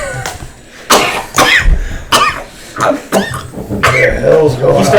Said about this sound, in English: starts to cough.